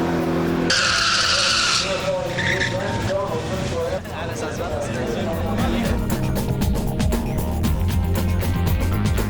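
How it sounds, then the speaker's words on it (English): T-Bucket hot rod launching hard off the line at a drag strip, a loud roaring engine with tyre squeal building as it pulls away, crowd and ambient noise mixed underneath. "That T-Bucket is so fast out of the hole."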